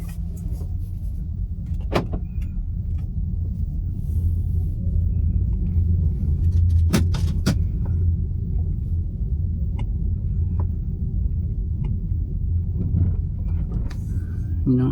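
Steady, low road rumble inside a BYD Emax 7 electric car driving forward, with a few faint clicks and knocks over the hum and quiet voices in the cabin.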